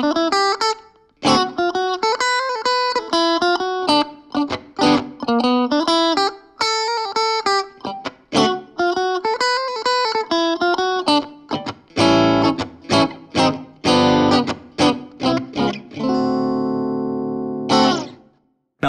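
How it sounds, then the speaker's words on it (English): Clean-toned Squier Mini Stratocaster on the combined middle and bridge pickups, playing a lively run of single notes and short chords, then strummed rhythmic chord hits and a final ringing chord, heard alone and up close. "It combines the middle pickup with the bridge pickup and gives us another classic Fender Strat tone"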